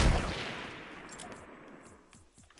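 Dense bursts of rapid gunfire from a shooter video game fade across the moment, loud at first and trailing off into scattered shots.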